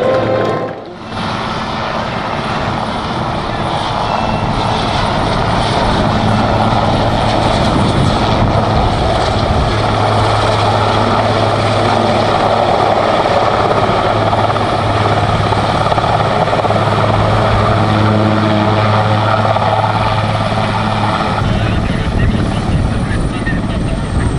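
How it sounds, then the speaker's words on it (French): The Patrouille de France's Super Puma helicopter landing at the 2023 Cerny La Ferté-Alais air show, heard as a loud, steady roar of engine and rotor that holds near and constant for over twenty seconds after a brief dip at the start. "le super puma de la patrouille de France s'est posé"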